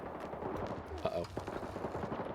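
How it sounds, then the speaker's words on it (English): Rapid, overlapping bursts of gunfire and heavier booms fill a video game firefight, a dense, continuous battle din with a voice talking over it. "I think we're about to pop up in the middle of a firefight."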